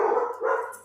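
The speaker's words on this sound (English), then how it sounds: "We have happy dogs." Several happy dogs barking at home, a loud, close burst of overlapping woofs and yips lasting under a second, with no talking.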